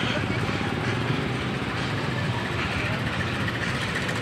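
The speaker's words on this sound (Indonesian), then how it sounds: "jadi begini suasana di terminal Depok" Busy outdoor ambience at Depok bus terminal, Indonesia, with idling bus engines and vehicle rumble, a crowd murmuring and voices talking in the background throughout.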